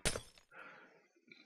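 A glass block shatters in Minecraft with a single sharp crash, followed by a brief fading tinkle, quiet overall.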